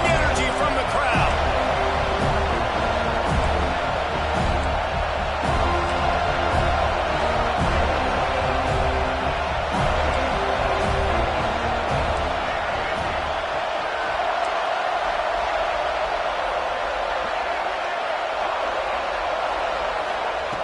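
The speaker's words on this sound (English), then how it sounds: "this defense feeling energy from the crowd" Stadium crowd noise at a Florida versus Florida State college football game, a steady loud roar during a third-and-goal defensive stand, with a commentator talking over it throughout.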